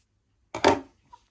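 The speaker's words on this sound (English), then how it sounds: "we'll cut my yarn" Scissors snipping through crochet yarn while finishing a flower motif coaster: a single quick, close snip burst, then a faint small click after it, against a quiet room.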